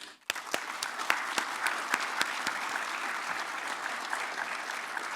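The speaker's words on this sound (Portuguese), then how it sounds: "Vou puxar palmas." A crowd at a conference breaks into steady applause that begins abruptly and continues evenly, with scattered sharp individual claps standing out.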